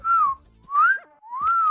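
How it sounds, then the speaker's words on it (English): Three clear, loud wolf whistles in The Sims Bustin' Out, each a rising-then-falling pitch sweep, whistled alone in quick succession. "We can wolf whistle now."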